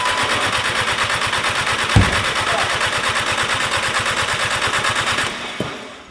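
An old Volkswagen Jetta's starter cranks without the engine catching, a loud, fast, steady chugging pulse held for about five seconds before cutting off, with a faint electric pump whine underneath.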